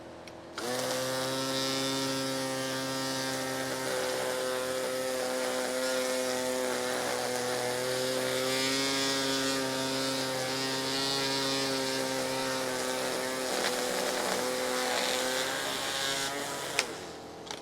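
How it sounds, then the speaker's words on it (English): A Worx GT 3.0 string trimmer running 0.065 line and rolling on its guide wheels as an edger, with a steady, loud motor whine and buzzing line that holds for about sixteen seconds before cutting off. "And here is the Worx edger. I am going to use the guide wheels here."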